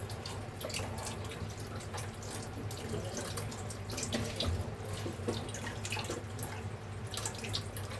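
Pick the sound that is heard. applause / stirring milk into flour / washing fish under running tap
washing fish under running tap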